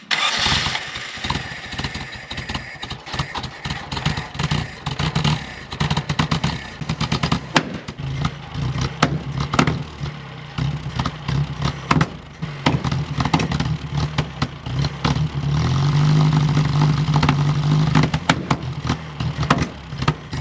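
Rough-running engine of a 4x4 covered wagon reeking of unburned fuel yet behaving lean, sputtering and popping irregularly for about twenty seconds before settling into a steadier, louder idle.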